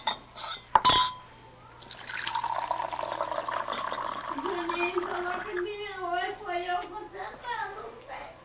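Water is poured into a glass, starting with a couple of clinks and then a sustained pour whose pitch rises as the glass fills, with no speech over it.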